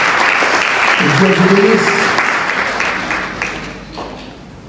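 Church congregation applauding during a worship service, loud sustained clapping that gradually fades, with someone speaking over it.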